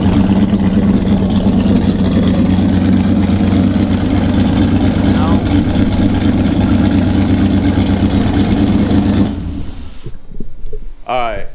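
An LS V8 swapped into a Datsun 280Z runs loud and steady at a rough idle with a heavy low rumble, then cuts off near the end as a voice briefly speaks.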